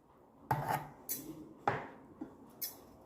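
A spoon scrapes and taps inside a glass while condensed milk goes in for lassi, making several distinct clinks and scrapes spaced about half a second apart, quiet and close.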